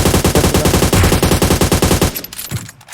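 Rapid automatic gunfire in PUBG, a loud, steady stream of shots firing for about two seconds before cutting off into quieter rustling and a few faint thuds.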